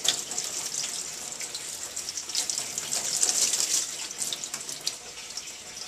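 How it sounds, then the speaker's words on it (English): Steady running distilled water splashes and hisses against a mirror being rinsed, continuous and close, with no voices. "I'm rinsing it once again with distilled water."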